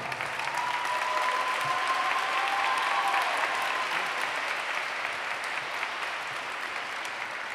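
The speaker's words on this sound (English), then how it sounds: "Ladies and gentlemen, two champions. Now applaud." Sustained applause from a gala audience at a Sarcoma Foundation of America event, even and dense from start to finish, with a faint tonal note briefly audible in the first half.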